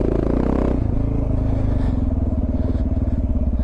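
A Suzuki DR650 motorcycle is ridden with a loud, steady engine drone and a rough pulsing exhaust note, close up, with some clatter and wind noise over the ride.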